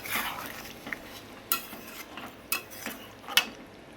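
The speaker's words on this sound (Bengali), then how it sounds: "একদম মাখা মাখা করবো বন্ধুরা আজকে মাংসটা" A spoon stirs chicken kosha, a thick Bengali chicken curry, in a pot after hot water is added. It gives several sharp clinks of metal against the pot over a soft continuous scraping and simmer.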